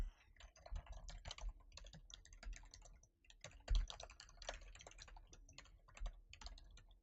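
Rapid clicking keystrokes on a computer keyboard, picked up by a Fifine microphone with noise reduction on, crisp separate clacks over a near-silent background with a brief pause midway.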